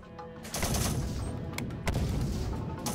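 Gunfire and explosions in the war game Syrian Warfare, rapid bursts and sharp cracks with booming impacts, loud and dense throughout.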